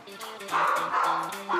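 Repeated muffled barks from a dog on the floor above, in a house home to five dogs, coming in a steady rhythm of short bursts through walls while people speak nearby.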